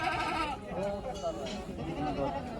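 Goats and sheep bleating at a crowded livestock market, repeated calls rising over a steady din of people talking nearby.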